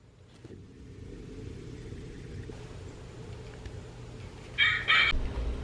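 Plush Audubon bird toy letting out a short, loud, harsh chicken-like squawk burst near the end, over a low rumbling background hum.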